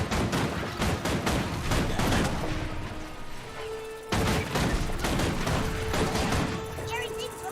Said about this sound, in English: Put down a couple turrets.